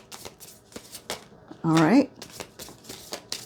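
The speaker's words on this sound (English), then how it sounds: "Let me sit back so you don't hear me shuffling." Tarot cards are shuffled in soft rapid riffles and taps, with one louder burst in the middle, while a person speaks briefly nearby.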